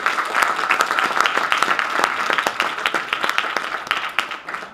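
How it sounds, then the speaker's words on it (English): An audience at a live-streamed gathering claps in a dense, steady round of applause, fairly close and sustained throughout. "Give a round of applause."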